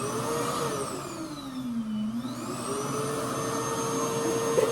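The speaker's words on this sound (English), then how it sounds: "So we about to start blow drying our hair." A reverse hair dryer runs with a loud vacuum-like whine, its pitch sliding down and back up once before holding steady at close range.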